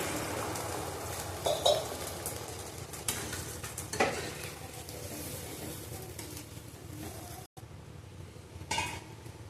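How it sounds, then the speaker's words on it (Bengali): Curry of raw banana and pea-lentil fritters is stirred and sautéed in a pan with a soft, steady sizzle. A spoon scrapes and clinks against the metal now and then, close by, with no talking. "আস্তে আস্তে কষাতে হবে কষানো দেখো"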